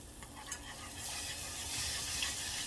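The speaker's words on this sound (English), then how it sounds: "And we just keep stirring to get all the clumps out." Flour and liquid being stirred into gravy in a hot pan, a steady sizzle and bubbling hiss with soft scraping strokes underneath, continuous and close.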